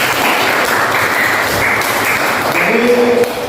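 Classroom students applauding during a teaching practice lesson in Palembang, a loud, dense, continuous clapping that fills the room, with a voice rising over it near the end.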